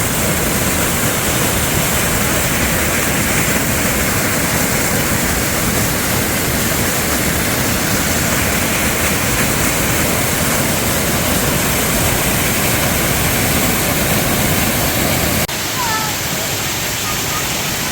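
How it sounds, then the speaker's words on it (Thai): A waterfall at Rim Moei pours in a loud, steady roar of broadband rushing water, close and unbroken throughout, with a slight shift in tone near the end. "น้ำตกนะครับน้ำตก"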